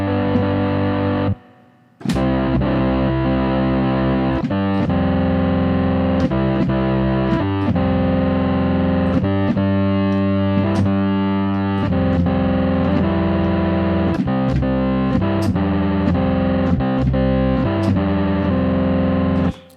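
A vintage organ's sustained chords through heavy distortion, loud and continuous with shifting notes and a brief dropout near the start.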